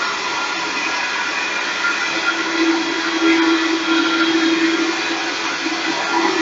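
Vitamix blender running at full power on very dry dates, a loud, steady, close motor roar with a slightly wavering pitch and no breaks, no talking.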